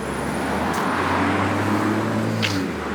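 A car passes on a nearby road, a steady engine and tyre rumble holding throughout with a low hum, traffic noise continuous with no talk.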